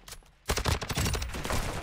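Gunfire in Modern Warfare 2 multiplayer: after a brief quiet moment, a loud, close burst of rapid automatic shots rattles on without pause.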